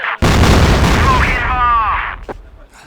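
A grenade blast in a CrossFire esports grand finals match bursts in loud and sudden, then rumbles away as a commentator's voice carries on over the fading noise.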